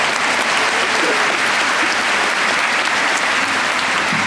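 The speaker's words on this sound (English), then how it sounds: "Yes, let's give that a round of applause." Loud, dense applause fills a medical school commencement and hooding ceremony hall, a continuous roar of many hands clapping at once with no pauses, with scattered voices mixed in.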